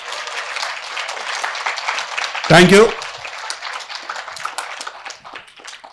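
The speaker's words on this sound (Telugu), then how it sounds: "బాగా జరిగితే గట్టిగా చప్పట్లు కొడదాం" A crowd applauds Maheshwari madam at the Dhyana Balavikas children's summer camp event. Dense, steady clapping fills the space while a voice speaks briefly over it partway through.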